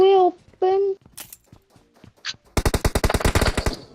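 Automatic gunfire in the mobile battle-royale game PUBG Mobile cracks out in a loud, rapid burst of about a dozen evenly spaced shots, after short bursts of vocal sounds and quiet game noises.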